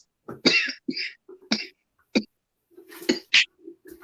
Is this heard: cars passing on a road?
no